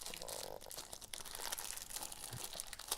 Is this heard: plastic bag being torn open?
yes